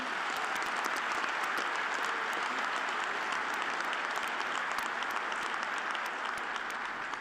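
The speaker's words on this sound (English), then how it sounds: "Please, a round of applause for the Howell family" Steady, dense audience applause fills a graduation ceremony at a lineman college in Idaho, a continuous even wash of many hands clapping at moderate distance for the full stretch without pause.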